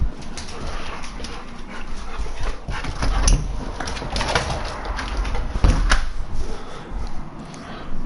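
Dogs moving about a room, giving soft whimpers and restless noises under steady household background noise, close and moderately loud, without talk.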